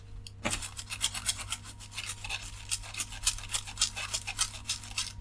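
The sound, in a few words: stiff toothbrush scrubbing hardened flux off a circuit board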